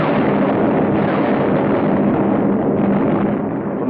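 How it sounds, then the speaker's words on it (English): Aerial bombardment explosions from a WWII newsreel of the Tunisia campaign form a loud, continuous, dense roar of blasts with a muffled, band-limited archival quality. No one speaks. "From the skies, a bombardment to which we had no adequate answer."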